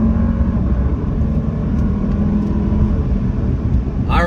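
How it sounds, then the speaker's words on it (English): A Jeep Grand Cherokee 4xe engine runs steadily and loudly close by, a constant low rumble with layered humming tones and no clear revving. "Let's listen to this engine first."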